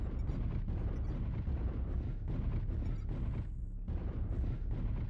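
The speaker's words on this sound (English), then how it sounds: "Artillery strike online." Heavy artillery strike explosions in a video game, a dense, continuous roll of deep booming blasts that overlap one another and stay loud throughout, with only a brief thinning near the end.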